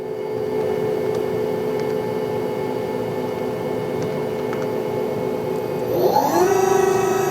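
Doosan Puma 2600SY CNC turning center spindle spinning at 500 RPM, a steady close machine whir with tonal hum, rising in pitch toward the end as it speeds up.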